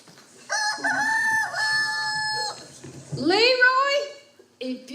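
A rooster crows a long, loud cock-a-doodle-doo, followed by a rising second call and the start of another, close by with no other sounds.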